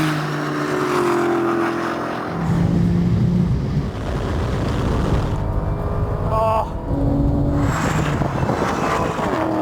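A Porsche and a Dodge launch side by side in a standing quarter-mile drag race, their engines roaring and revving continuously under excited talking voices.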